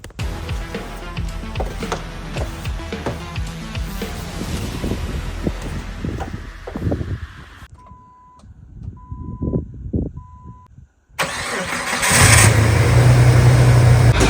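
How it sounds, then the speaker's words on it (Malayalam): Vehicle engines idle steadily outside in the snow as they warm up, a continuous mid-pitched rumble with some wind noise, broken by a brief quieter stretch before a louder, harsher engine sound returns near the end. "അപ്പോൾ എന്തായാലും വണ്ടിയെല്ലാം പുറത്ത് കിടന്ന് വാമാവട്ടെ"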